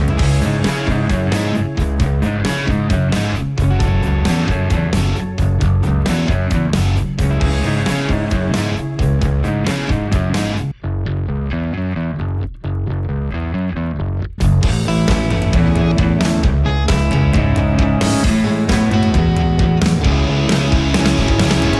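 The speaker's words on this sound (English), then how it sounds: "It is a Jack Cassidy signature Epiphone" A heavily distorted Epiphone Jack Cassidy signature bass guitar plays a driving, thick riff, with a brief break partway through before the full grinding tone returns.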